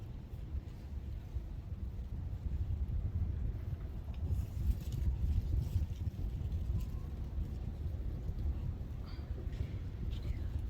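Wind blowing outdoors and buffeting the microphone, a steady low rumbling roar that lasts throughout with small surges, while a pumpkin is readied for carving and no one speaks.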